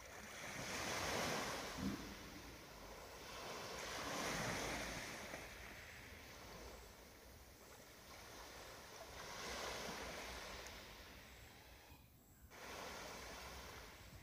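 Sea waves wash onto a beach as a calm meditation backdrop, with soft surges swelling and fading in a slow, steady rhythm, plus a light wind hiss and no voices.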